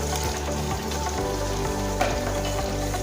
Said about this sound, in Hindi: तो यहाँ साथ साथ हम पालक भूनते हैं